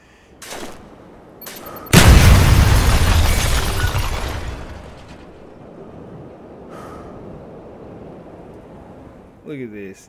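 AC-130 gunship fire in the video game Black Ops 1: a loud, sudden burst of explosive impacts that rumbles for about two seconds and then fades, with brief sharp sounds before it and faint talk around it.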